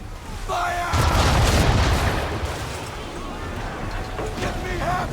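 Ship cannons fire in the Assassin's Creed video game, a deep booming blast rolling out near the start and then fading into a lingering rumble, with a shouted voice heard faintly near the end.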